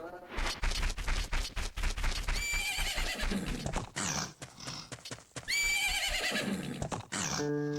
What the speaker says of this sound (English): Isn't that your horse?